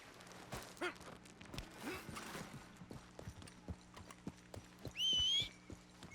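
Horse hooves clip-clop in a steady trot in Red Dead Redemption 2, with a brief high whinny-like cry partway through over a low droning background.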